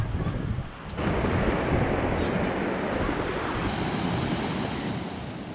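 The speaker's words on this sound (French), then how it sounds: "avec le ressac qu'il y a et les gros galets, les grosses pierres" Loud, steady surf breaking and washing over large pebbles and stones on a shore at São Nicolau, Cape Verde, a continuous roar with heavy wind noise on the microphone, no talking.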